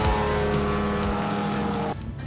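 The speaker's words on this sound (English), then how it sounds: "As they come across the line, it is Scholz from Henning, De Lange and De" Race cars in the 111 Sports and Saloon class cross the finish line at Zwartkops circuit, a loud sustained engine roar close by that cuts off abruptly near the end.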